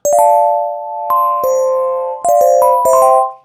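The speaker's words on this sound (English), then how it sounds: "A classic FM piano sound." Synthesized FM electric piano notes with glassy, bell-like attacks, played as a few sustained chords and single notes, clear and fairly loud.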